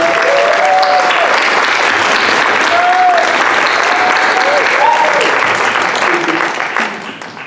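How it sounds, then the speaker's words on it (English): An audience at the Mehregan 2023 opening ceremony gives loud, steady applause that fills the room, with a few voices and cheers rising over it before the clapping fades toward the end. "Please, a round of applause for her."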